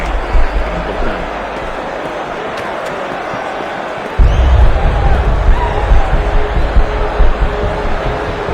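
A town crowd in Assassin's Creed 3: a constant murmur of many people and street bustle, growing fuller and louder partway through, with a voice speaking over it.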